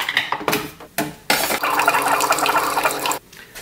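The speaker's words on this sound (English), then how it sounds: "let's make some strong coffee" Cheap strong coffee being made in a kitchen, with clinks of cups and utensils followed by a steady stream of liquid pouring for about two seconds, then a final clatter.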